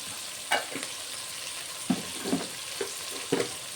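Tomatoes soften in a pan with a pinch of garam masala and coriander powder. A soft, continuous sizzle sits under a few brief spoon stirs and taps, close but quiet, with no one talking.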